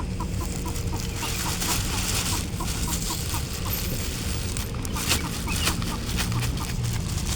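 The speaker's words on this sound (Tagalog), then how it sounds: "manok." A flock of chickens clucks continuously in soft, rapid, overlapping bursts, fairly close, over a constant background hum.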